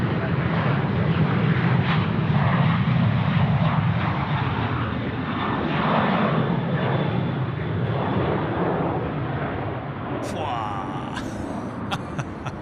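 A Qantas airliner takes off from Sydney Airport, its engine roar broad and steady throughout, with a voice talking over it.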